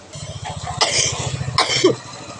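Two sharp sneezes from a person after inhaling a strong homemade cold remedy, close and loud, spaced under a second apart over a steady low hum.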